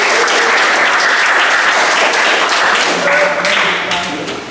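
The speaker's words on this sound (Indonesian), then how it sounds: "Ya, tepuk tangan untuk kita semua." Group applause in an automotive engineering class, a dense steady clapping from a room of students that holds strong and tapers slightly at the end.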